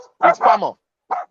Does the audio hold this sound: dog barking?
yes